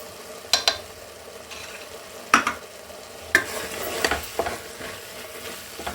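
Spices frying for hitakidabele biryani, stirred with a spoon in a hot pan, a steady sizzle broken by several sharp scraping clacks at irregular intervals, close up and with no voices.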